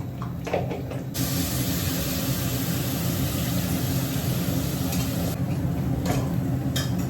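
A sudden burst of sizzling as bay leaves and cumin seeds drop into hot oil starts after a second and keeps hissing steadily nearby.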